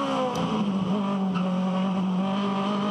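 Aussie Racing Cars at a Sydney race meeting, their engines screaming at a steady high pitch as they pass close by, loud and continuous with a hint of tyre squeal.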